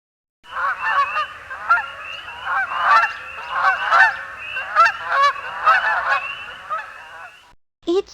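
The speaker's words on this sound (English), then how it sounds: "Each spring, Canadian geese fly from Mexico and the southern United States to breeding grounds in Canada." Canada geese honking loudly and repeatedly in a flock, rapid overlapping calls in an uneven rhythm that carry on for several seconds before stopping.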